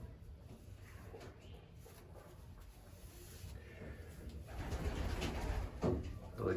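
Young racing pigeons coo softly inside a loft, low murmuring calls blending with faint rustling and handling noise that grows a little louder toward the end.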